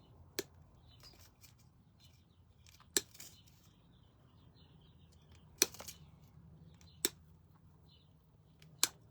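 Several sharp, isolated snips of scissors cutting pieces one at a time for a painted planter project, spaced a few seconds apart over a quiet background.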